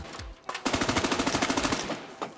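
Automatic rifle fire rattles in a rapid, even burst of about twenty shots in America's Army: Proving Grounds, loud and close, with a couple of single shots before and after.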